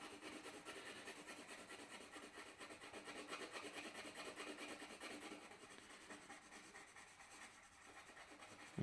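Pink coloured pencil rubbing steadily across paper, a continuous scratchy shading that runs close and even for the whole stretch before a sharp knock at the very end.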